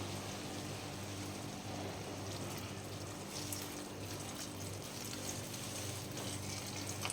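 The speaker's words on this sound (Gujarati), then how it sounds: "એમાં પાણી એડ કરી દઈશું" Water being added to a Mehsana-style brinjal and potato vegetable curry, a steady continuous pouring and liquid rush that runs unbroken through the whole stretch at moderate level, with no talk.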